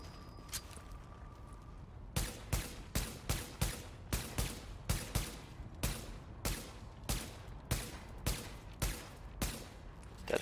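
A weapon in The Division video game fires about twenty loud shots in a steady rhythm, roughly two a second, after a short quiet start with no talking.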